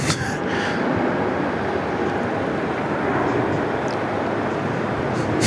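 United airliner beginning its takeoff roll at Sydney Airport, a broad, steady jet roar from a distance that stays even throughout, with faint voices over it.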